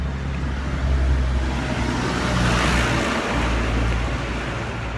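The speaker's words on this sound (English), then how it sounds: "I've got a loud truck passing here." A loud truck rumbles past outside, a heavy low engine drone and road roar that swells and lingers at close range without any talk over it.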